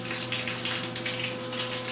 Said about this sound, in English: That's how we shower.